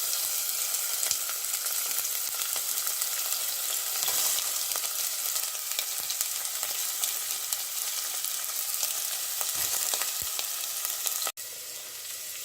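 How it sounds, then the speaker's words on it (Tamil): Onion, garlic cloves and green chili sautéing together in a pan for zucchini sambar, giving a loud, steady close-up sizzle with a few faint stirring clicks, then dropping slightly in level near the end. "வெங்காயம், பூண்டு பற்கள், மற்றது பச்சை மிளகாய், இது எல்லாத்தையும் ஒன்றாக நான் போட்டு வதக்க போகிறேன்."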